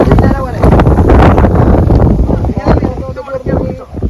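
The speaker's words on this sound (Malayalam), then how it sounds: "കാറ്റുണ്ട്" Steady wind buffets the microphone with low rumbling gusts at Ramakkalmedu, while voices talk intermittently over the blustery noise outdoors.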